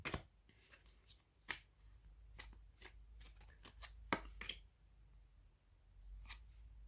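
Tarot cards shuffled by hand in a quiet room, a run of crisp riffling snaps and slides arriving in irregular bursts, close and moderately loud with no talk.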